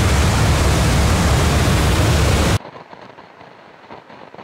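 A loud, dense burst of random broadband noise hisses evenly like static for about two and a half seconds, then cuts off abruptly to a faint low rumble.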